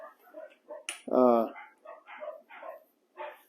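A single sharp, high-pitched puppy bark rings out mid-clip, loud and close, while a person talks quietly before and after it.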